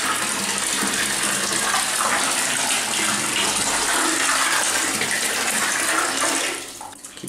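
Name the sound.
water pouring into filled bathtub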